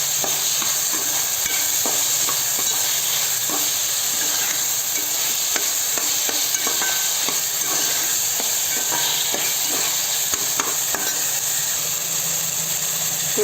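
A goat head curry with salt and tomatoes is stirred in a hot pan, a continuous loud frying hiss with frequent scraping ticks of the spoon running steadily throughout.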